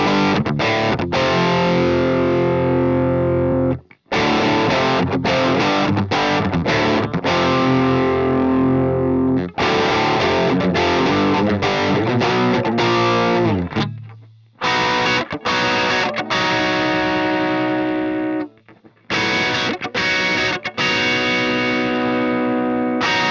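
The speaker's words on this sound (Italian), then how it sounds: "Usando il low cut questo effetto si riduce e quindi risulta meno fastidioso." Distorted electric guitar run through the Enhancer block of a Fractal Audio Axe-FX III, with its comb-filter effect tamed by a low cut, playing loud riffs with short pauses and a fading sustained note midway.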